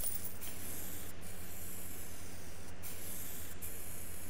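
Steady spray-paint hiss as a car is painted in Car Mechanic Simulator, a continuous close airy spray with a few brief pauses and no talk.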